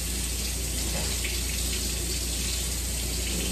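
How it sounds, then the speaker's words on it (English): Water gushes steadily from a household tap as the hot water heater refills, a loud continuous rushing hiss with no break. "Hot water heater is putting out full of water right now."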